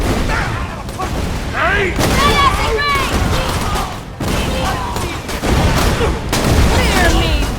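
Borderlands 2 gunfire crackles in repeated bursts through a busy battle, heavily overlaid by shouting voices and game clamor.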